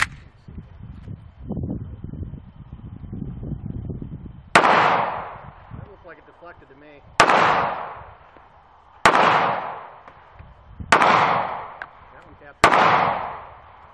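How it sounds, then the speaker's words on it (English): An FN Five-seveN pistol fires five 5.7x28mm black tip armor-piercing rounds at AR500 level III body armor outdoors. Loud, close, sharp cracks come at irregular intervals of about two seconds, each followed by a brief echoing decay, after an opening stretch of muffled talk. "The last 4 rounds are going to be the black tip, the armor penetrating rounds, against our AR500 level 3 body armor."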